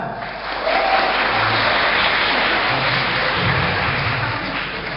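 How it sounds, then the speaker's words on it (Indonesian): Steady applause fills a lecture hall as an Indonesian technopreneurship audience claps, continuous and fairly loud, with faint voices murmuring underneath. "Yang bilang Indonesia negara miskin tepuk tangan."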